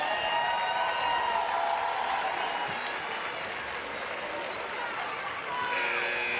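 Crowd noise fills a basketball arena during a Team USA versus Senegal women's qualifying game, a steady loud roar of cheers and applause with a commentator talking over it.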